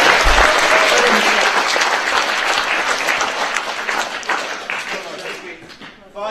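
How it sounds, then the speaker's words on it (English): An audience at a community event in Buckfastleigh breaks into sustained applause, a dense, loud roomful of clapping that gradually thins and fades toward the end. "Can we get a round of applause for that?"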